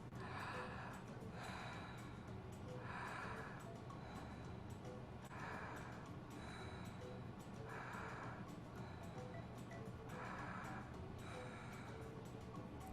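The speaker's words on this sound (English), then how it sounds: "Keep breathing." Slow, deep breaths in and out repeat at a steady rhythm of roughly one every two seconds, airy and hushed under a faint constant background hiss.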